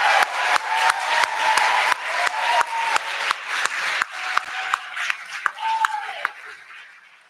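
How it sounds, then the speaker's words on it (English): An audience at an intercollegiate ethics bowl national championship applauds volunteers with a dense, steady burst of clapping that is close and loud. A voice speaks over it, and the clapping thins and fades toward the end. "I want everybody to give a really big round of applause to our volunteers"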